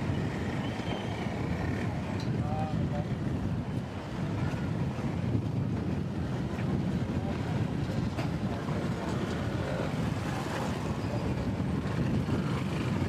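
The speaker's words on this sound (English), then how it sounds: "You can probably see from the flags how windy it is." Steady wind buffeting the microphone at a riverside port in Phnom Penh, Cambodia, a constant low rumble throughout with faint background activity from the busy waterside.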